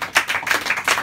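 A small group claps hands in a brief burst of a few uneven, overlapping claps, close and fairly loud, at some kind of contest.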